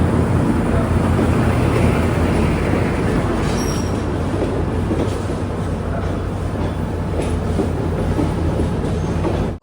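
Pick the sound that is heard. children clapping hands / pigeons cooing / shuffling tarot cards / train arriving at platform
train arriving at platform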